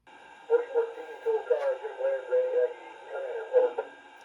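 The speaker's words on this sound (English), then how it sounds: "When this engine is on the track and you hear that radio chatter, it really draws people's attention." Scale radio chatter from an MTH 4014 Big Boy model train's sound system, a crackly voice-like transmission with several short bursts over steady hum, moderately loud and close.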